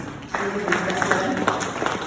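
Applause from an audience at a book launch swells suddenly and holds steady as a dense wash of clapping, with a voice talking over it.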